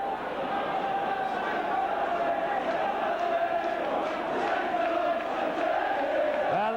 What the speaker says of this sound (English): A tremendous full house capacity crowd here at Nosey Road.